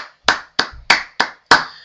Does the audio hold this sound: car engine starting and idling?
no